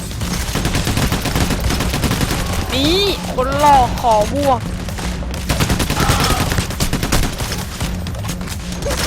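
Rapid bursts of gunfire fill the Payday: The Heist game action, loud and near, with booms mixed in while players talk over the shooting.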